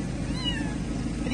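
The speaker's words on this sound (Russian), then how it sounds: "Так, котенок в переноске." A kitten meows inside a pet carrier, a single thin, close cry rising and falling over a low background rumble.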